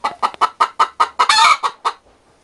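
A person imitates a clucking hen laying an egg, giving about ten rhythmic, loud, close clucks that swell into a drawn-out squawk near the end before fading.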